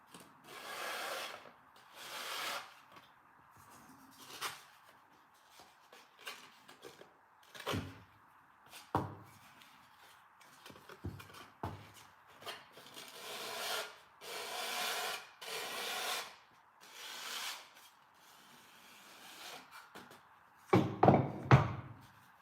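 Repeated rasping strokes of sandpaper on the wood of a launch glider model, sanding at an angle, near and fairly loud, in uneven bursts with short pauses, ending with a few sharper taps.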